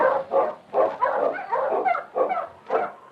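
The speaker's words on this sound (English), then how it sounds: "The Wonder Dog King, swiftest and strongest of Eskimo lead dogs, blazes the trail through storm and snow for Sergeant Preston" An Eskimo lead dog in a radio drama barks in a rapid series of about eight loud, close barks, spaced in irregular bursts with no talk over them.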